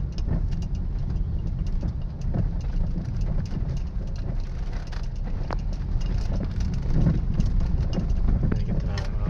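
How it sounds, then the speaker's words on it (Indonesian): A low, continuous rumble with irregular knocks and rattles from the middle of the underbody of a moving Suzuki Ertiga on a corrugated road, like a loose bolt, steady and close, with a voice talking over it. "Terdengar suaranya di bagian tengah kolong ya. Terdengar suaranya geruduk ya."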